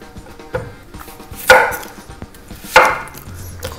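A knife chops onion on a board for a tandoori salad, giving one light knock and then two louder, close chops about a second apart, with faint background sounds and no speech.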